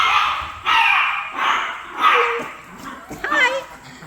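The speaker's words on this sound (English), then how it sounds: "Why are you all barking?" Several small dogs in a home craft studio yip and bark in bursts, each about half a second long, close by, with a whiny, warbling tone near the end and a person talking over them.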